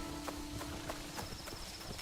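A video game horse's hooves clip-clop in a quick repeating beat over a steady ambient game drone, with no talk.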